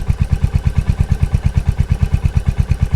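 A Royal Enfield Hunter 350 motorcycle fitted with a Coffman's shorty slip-on exhaust runs loud and close, its single-cylinder beat a fast, even, throbbing pulse held steady throughout.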